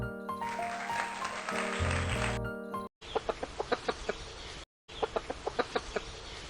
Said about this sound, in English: A hen clucks and sometimes even cackles.